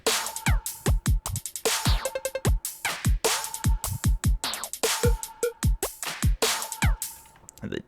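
Kawaii future bass drum pattern with punchy pitched-down kicks, sharp snares and scattered electronic blips and glitchy sound effects, looping in a bouncy, busy groove, loud and without voices.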